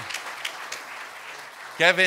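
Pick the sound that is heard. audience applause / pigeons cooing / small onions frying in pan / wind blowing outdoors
audience applause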